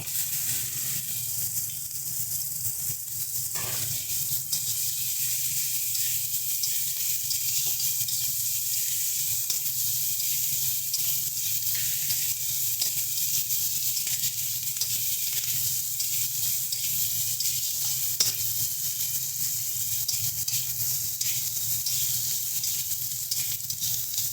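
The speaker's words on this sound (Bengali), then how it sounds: "এই মাছ ভাজার তেলের মধ্যে দিয়ে দিচ্ছি পেঁয়াজ কুচি" Steady hissing sizzle of chopped onions frying in oil left from frying fish, continuous and even throughout, with a brief clatter early on and no talking.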